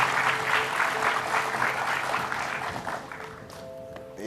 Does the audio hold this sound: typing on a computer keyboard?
no